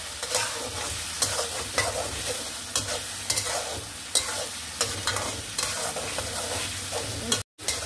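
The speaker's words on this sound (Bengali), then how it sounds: "এভাবে কষিয়ে নেব" Spice masala stir-fried in a wok for a ridge gourd dish, with a steady loud sizzle and repeated sharp scrapes of a spatula against the pan throughout.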